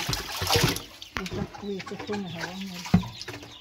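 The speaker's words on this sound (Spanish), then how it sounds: "Qué bonitos están los pollos." Chickens cluck close by in a series of short, throaty calls, with a sharper squawk near the end and faint background noise.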